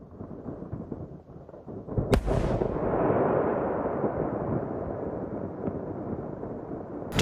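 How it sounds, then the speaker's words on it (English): Explosion at a fireworks facility near the town of Esparto, California: a rumbling background gives way to a sudden loud blast, followed by a long, heavy roar that slowly fades. "Explosion at a fireworks facility rocked the area in and around the town of Esparto this"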